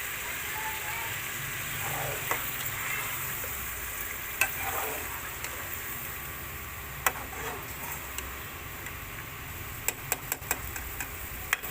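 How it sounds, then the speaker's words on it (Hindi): Tomato and onion paste sizzles steadily in a pan for chicken karahi, with occasional clicks and taps of a spoon stirring through it and no talk. "ये टमाटर और प्याज का पेस्ट इसमें डाल देंगे। और अब इसको हिलाएंगे 2-3 मिनट।"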